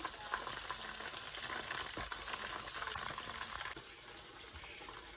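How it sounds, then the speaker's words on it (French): Horse mackerel (chinchard) fish frying in a pan: a steady, close sizzle and bubbling hiss with a few small pops, dropping noticeably quieter near the end, with no talk. "Donc on a fini de frire les poissons."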